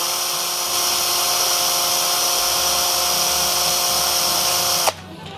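A DCK cordless drill spinning steadily at speed setting 2, a loud continuous high whine with a constant pitch that holds for nearly five seconds before cutting off abruptly with a short clunk.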